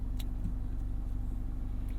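A 2019 Mazda MX-5 Miata GT-S cruising at night makes a low, even engine hum from inside the cabin, with a couple of faint light clicks over the drone.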